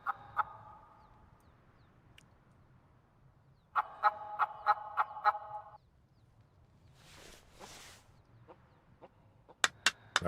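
Wild birds call in the hunting game theHunter Classic, with a harsh, repeated honking call, a pause, then a fainter reply and a few sharp clicks over a quiet outdoor hum.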